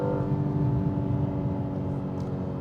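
BMW M2 G87 of 2023, rear-wheel drive, accelerating hard on the Autobahn, its engine a loud, steady, deep drone with dense harmonics and no pause, close up from inside the cabin.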